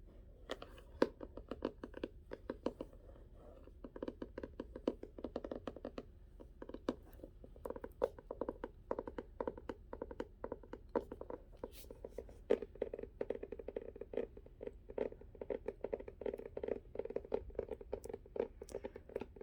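Fingertips tap softly and rapidly on books in a quiet ASMR setting, a dense, continuous patter of light taps that sounds almost like rain, close and faint, with no talking.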